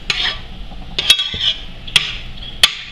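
A spoon stirs cheese sauce in a pot, scraping and swishing up close, with three or four sharp metallic clinks against the pot's side at uneven intervals.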